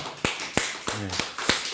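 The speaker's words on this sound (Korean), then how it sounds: "추수의 열매를 인해서 하나님 아버지께 우리 감사의 박수를 올려드립니다" Hands clap in a church thanksgiving service: about five sharp, separate claps at an even, unhurried pace, close and crisp, with a brief voiced sound between them.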